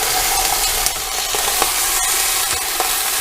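Whole chicken browning in hot fat inside a pressure cooker, a continuous loud sizzle with occasional crackles and small bumps as it is turned.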